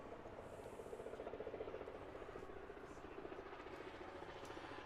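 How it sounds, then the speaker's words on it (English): A helicopter passes overhead at a wiffleball game, a faint, distant, steady rotor chop carrying beneath voices and outdoor ambience. "Another helicopter coming overhead."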